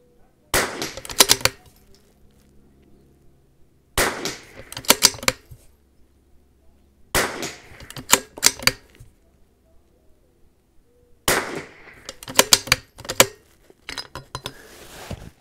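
Rifle fired on an NRL22 rimfire course of fire: four separate strings of sharp, close shots, each a quick cluster of cracks with metallic clinks and action noise, and quiet gaps between them.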